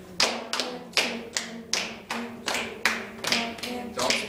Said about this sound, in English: Okay, we're going to start clapping. Clapping the rhythm.